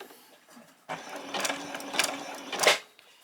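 A sewing machine hums and stitches steadily close by, running around the neckline of a long-sleeved T-shirt at a quarter-inch seam, growing briefly louder near the end before stopping.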